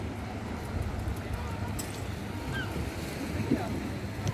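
Sea waves washing onto Dawlish Warren beach at high tide, a steady close wash of surf with wind buffeting the microphone and a few faint distant voices.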